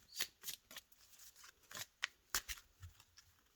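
Tarot cards shuffled by hand for a reading, a series of crisp riffling bursts in an uneven rhythm, close and quiet, with no talking.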